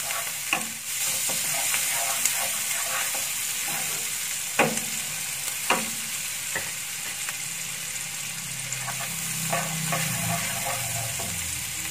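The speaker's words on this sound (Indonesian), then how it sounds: "Bawang bombaynya kita tumis dulu sampai harum dan warnanya sedikit berubah ya." Onion, shallots and garlic sautéing in a pan for a pizza or spaghetti sauce give a steady close sizzle, broken by scraping stirs and sharp clicks of a utensil against the pan, with no voices.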